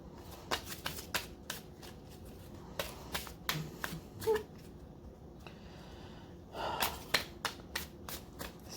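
A deck of tarot-style cards is shuffled over and over in a quiet room, with sharp riffling snaps and soft slides repeating steadily.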